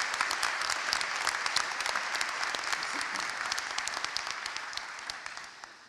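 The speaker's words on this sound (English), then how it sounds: "give her a big round of applause" A large audience at a university winter graduation ceremony applauds the new chancellor, with steady, fairly soft massed clapping in a big hall that tapers off at the end.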